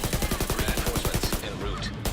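Rapid SMG bursts rattle off in The Division 2, a fast regular stream of close shots that cuts off partway with a voice speaking over it.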